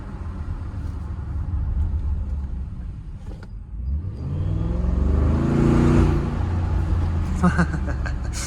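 A 2021 Audi SQ7 with a V8 engine accelerating hard on twisty roads, its deep exhaust rumble swelling and rising in pitch over several seconds after a brief dip, loud and close from the cabin.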